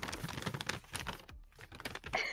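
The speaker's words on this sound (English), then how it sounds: "Oh no, that's obnoxiously loud rustling." Papers rustle and crinkle loudly close to the microphone in a series of sharp, uneven bursts with brief pauses between them.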